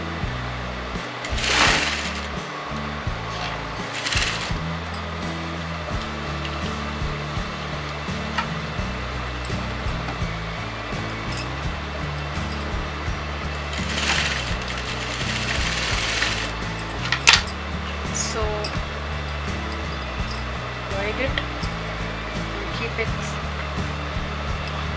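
A sewing machine stitches along a line on top of kurti fabric, a close, steady mechanical whir with a pulsing rhythm that runs nearly the whole time, broken by a few brief louder bursts and clicks.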